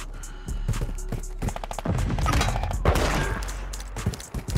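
Pistol fire at long range in an online shooter game: a volley of sharp, close reports in quick succession over busy game noise, with little pause between shots.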